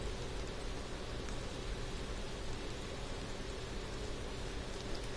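Steady rain falling in The Division 2 video game, a dense, even hiss of drops that holds constant with no voices over it.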